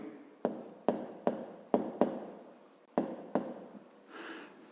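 Pen scratches across paper during a fifth-grade math exercise, a series of quiet, close strokes in short separate bursts, each starting sharply and trailing off, with no voice.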